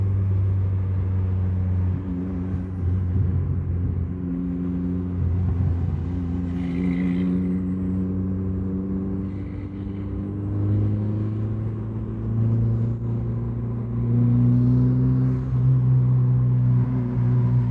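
A turbocharged Honda Jazz GK fitted with a JCT exhaust drives along, its engine giving a steady, loud low drone with shifting pitch as it pulls through the gears, heard from inside or close by with no talking.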